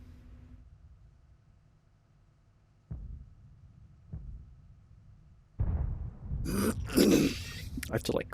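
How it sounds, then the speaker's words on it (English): Someone clears their throat with a rough, gravelly rasp after a few soft knocks, and the sound is close and fairly loud. "I have to like clear my throat."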